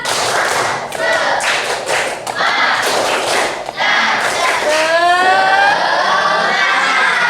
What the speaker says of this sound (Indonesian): Semangat, boleh tepuk semangat dulu dong. Tepuk semangat.